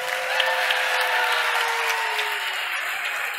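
A conference crowd at the Nordic Game Awards applauds the volunteers, a steady, dense wash of clapping from a large audience that holds an even level throughout with no voices on top.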